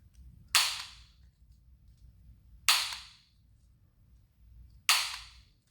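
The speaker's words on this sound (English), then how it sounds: "So I'm going to round these off with my little rounder here." A handheld corner rounder punch clips the corners of washi tape earring pieces: three sharp, crisp snaps spaced about two seconds apart, close and fairly loud, with quiet room hum between them.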